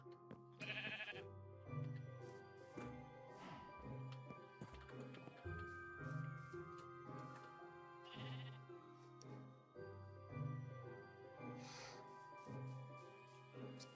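Sheep bleat repeatedly in the Minecraft video game on a Minecolonies modded farm, several loud close calls recurring every few seconds over a steady layer of game sounds and music.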